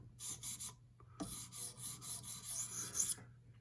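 An S110V steel knife bevel rubbed on a sharpening stone for a mirror polish, giving close, gritty rasping strokes: a few short quick passes, a pause, then a longer continuous scrape.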